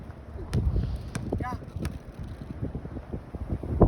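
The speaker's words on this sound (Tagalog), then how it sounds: "Lakas ng hangin." Gusty wind buffets the microphone in rough bursts during an outdoor basketball game while indistinct voices and clattering sounds come and go.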